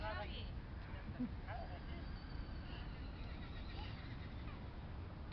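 A horse neighs in an outdoor playground setting, a distant whinny mixed into a steady wash of crowd babble and ambient noise.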